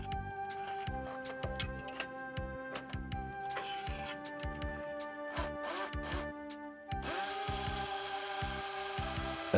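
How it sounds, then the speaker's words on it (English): A cordless drill with a masonry bit whirs steadily with pulsing, grinding bursts as it bores into a wall, the pitch shifting toward the end. "A masonry bit of the right size is used to drill the holes"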